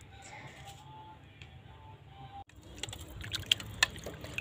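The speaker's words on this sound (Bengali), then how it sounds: "মাছগুলো এবার ধুয়ে নিচ্ছে পরিষ্কার করে।" Fish being rinsed clean under water in a home kitchen, with trickling and splashing that grows busier and louder in the second half, small drips and clinks scattered through.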